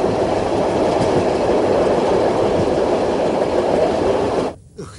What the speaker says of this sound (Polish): Och, jak ja nie cierpię tego cholernego pociągu.